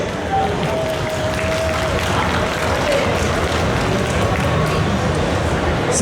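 An audience at a Geek Days Caen 2021 cosplay conference applauds a guest with steady, sustained clapping and some crowd noise for six seconds, close and loud throughout.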